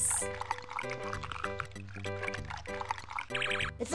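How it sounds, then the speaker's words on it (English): Hot chocolate overflowing its cup in the 1993 Busytown computer game, a warbling, cartoonish pouring noise layered over a bright, bouncy musical score for about four seconds. "But it's overflowing again with that weird noise."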